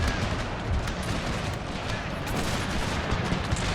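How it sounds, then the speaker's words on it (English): Dense infantry musket volleys in a Total War battle set in the Thirty Years' War, point-blank crackling gunfire that rolls on steadily with no clear gaps, loud and busy under a continuous battle din. "Point blank range firing straight into each other."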